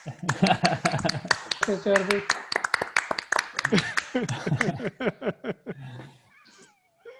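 Scattered hand claps from participants on an online conference call, coming through their microphones as sharp taps mixed with overlapping talk before it thins out near the end.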